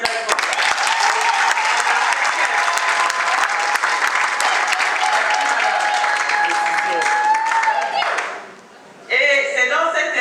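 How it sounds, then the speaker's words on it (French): Wedding guests applaud loudly at a civil marriage ceremony, sustained dense clapping with a faint voice over it, breaking off briefly before a speaker continues. "On peut applaudir très fort."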